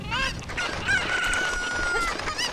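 Cuccos cluck and crow in a Legend of Zelda game set in Kakariko Village, a loud run of rooster-like calls with shrill sustained squawks layered over busy game sound, no talk.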